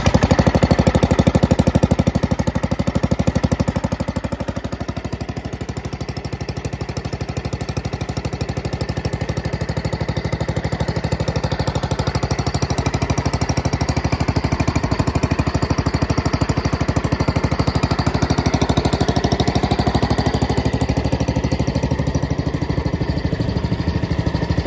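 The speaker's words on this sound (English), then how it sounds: "We can start it with a pull start this time." Cub Cadet Original garden tractor engine, recoil-started, running with a steady rapid small-engine chug that dips briefly then holds a constant idle, loud and close.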